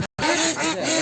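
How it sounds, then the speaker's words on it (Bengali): Khaki Campbell and Jinding ducks at a farm quack loudly and close by in a brief burst. A short gap near the start is followed by dense, overlapping honking calls. "যে হাঁসগুলো দেখছেন এগুলো কাই ক্যাম্পেল এবং জিন্দি।"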